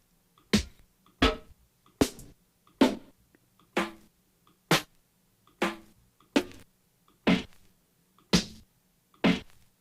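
Snare drum one-shots sampled from vinyl records, gritty and noisy, hit one after another: about eleven sharp cracks at an even pace of nearly one per second, each with a short decay over faint vinyl hum, no speech.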